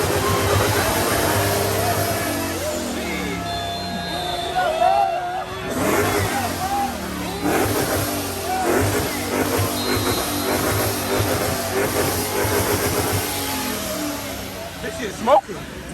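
Engine of a 1,000 HP Hellcat revving repeatedly at a car meet, loud rising and falling roars under crowd noise and people talking nearby.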